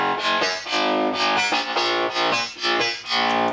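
An aggressive, heavily EQ'd electronic bass layer from an Animal Sound Anthem style track, distorted and bright, pulsing in short rhythmic stabs that pump on and off, loud and alone.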